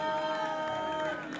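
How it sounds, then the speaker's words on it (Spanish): Concert audience cheering and applauding as Emilio Cecchetti's rock band is introduced, a loud close crowd roar with whoops and a steady sustained tone over it, easing off slightly at the end. "Un aplauso para Emilio Cecchetti"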